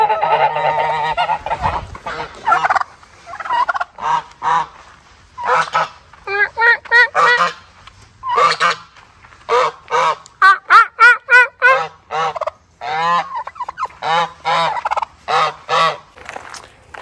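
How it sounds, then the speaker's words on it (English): Geese honk loudly and repeatedly in harsh, agitated bursts, a raucous flock close by, with a voice briefly mixed in near the start. "Angry geese."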